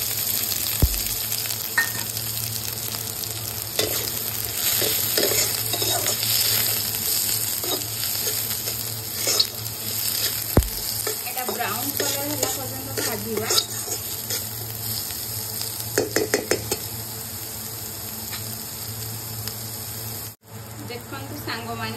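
Onion frying in oil with a bay leaf for an egg paneer dish, giving a steady close sizzle with scattered crackles and stirring scrapes, with faint speech at times.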